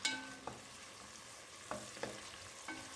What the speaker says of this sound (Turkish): Şimdi bunları katıyorum canlarım. Güzelce bunları biraz kavurayım.